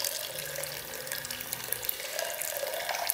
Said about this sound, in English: Pull this grain bag out here and pretty much just let it drain in